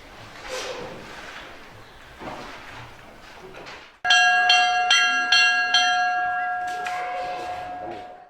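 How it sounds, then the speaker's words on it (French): School bell at a seminary ringing loudly with a bright metallic clang, struck repeatedly for about four seconds after a stretch of quiet background murmur. "17h30, la cloche annonce la fin des cours."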